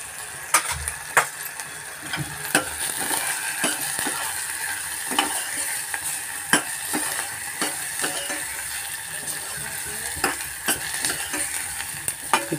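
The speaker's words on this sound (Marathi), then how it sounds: "राय, मोहरी, हे जिरं एक. हे आपले फोडणी तयार होते." Mustard seeds and cumin crackle and sizzle in hot oil for a Maharashtrian curd-and-gram-flour pithla tempering, a steady frying hiss broken by sharp popping bursts and occasional spoon clicks.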